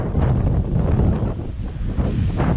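Strong outdoor wind roars steadily and loudly against the microphone during a flight of a Ryze Tello drone, a dense buffeting rush that never lets up, with no voices.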